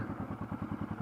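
Motorcycle engine idling close by with a steady, lumpy thumping pulse, low in level and heard alone for about a second.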